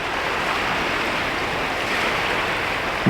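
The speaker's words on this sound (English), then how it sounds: "We've got the sound of the sea," Sea waves in Brodick bay at dusk, a steady broad wash of surf with wind noise, constant and fairly loud with no talk.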